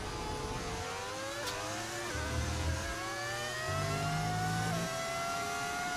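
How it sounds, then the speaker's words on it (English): A V10 Formula 1 car engine modded into the F1 25 racing game wails loud and close throughout, its pitch climbing through gear changes with brief dips between shifts, sustained high-revving drive with no talk. "Does the car sound like it's from 2005? Yeah, it's a V10 audio mod."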